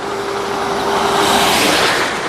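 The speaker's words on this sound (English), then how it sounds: "So this is the truck from outside." A large truck runs along a road between Riga and Tallinn, a loud, steady broadband engine-and-road roar with a faint constant whine, close and unbroken throughout, with no voices.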